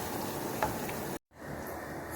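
Chopped onions fry in a pan at home, giving a steady close sizzle that cuts out abruptly for a moment and then resumes more quietly.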